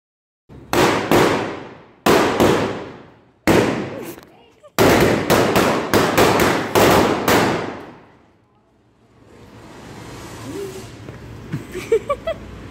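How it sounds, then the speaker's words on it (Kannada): Diwali firecrackers burst in a rapid series of loud, sharp bangs, several close together, each with a ringing decay, then fading into distant crackles and faint pops. "ಹರಿಗೆ ಯಾವ್ದು ಇಷ್ಟನೋ ಆ ಪಟಾಕಿನ ಅವ್ನು ತೊಗೊಂಬಂದು ಹೊಡ್ದ"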